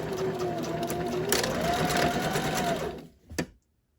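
A sewing machine runs steadily while stitching a crossbody bag, a continuous close whirring hum of fast needle strokes lasting about three seconds before stopping abruptly with a brief final clunk.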